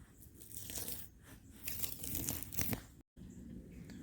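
Dried membrane being peeled off a deer hide during tanning, soft crinkly tearing and crunching in short bursts, close and quiet, with a brief silent gap near the end.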